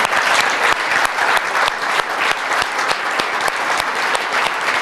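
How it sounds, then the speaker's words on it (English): An audience at a startup community update night applauds its presenters: dense, sustained clapping from a full room, loud and steady throughout with no speech on top. "please give another round of applause for our presenters."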